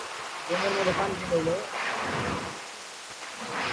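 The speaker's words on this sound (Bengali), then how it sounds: "বৃষ্টিতে বাইক ভিজে ভিজে চালিয়ে বেড়াচ্ছে" Steady rain falls outdoors as a continuous broadband hiss, with a person speaking over it throughout.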